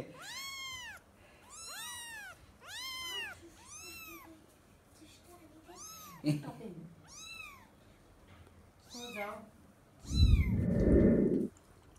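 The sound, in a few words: cats and kittens meowing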